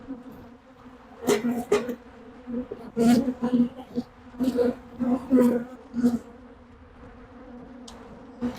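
Honey bees buzz steadily during an open hive check, a close, continuous drone that swells in short louder bursts as the frames are handled.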